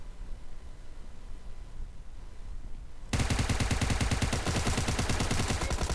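Automatic gunfire in the mobile shooter PUBG Mobile, loud and sustained rapid bursts starting abruptly midway after a quieter stretch of low ambient noise.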